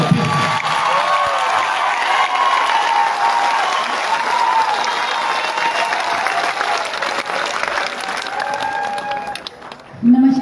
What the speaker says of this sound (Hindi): पूरा सदन में हाथ उठाकर तालियां बजाकर मैडम का स्वागत करते हैं